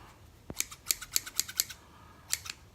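Lenox aviation snips cutting, a quick run of about eight sharp metallic snips in a fairly even rhythm, then two more after a short pause, close and crisp.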